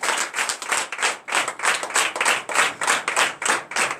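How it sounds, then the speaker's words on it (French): A church congregation claps together during a Sunday service, a dense, steady stream of rhythmic clapping with regular pulses, loud and close, with no talk over it. "Donnez l'acclamation à notre Seigneur"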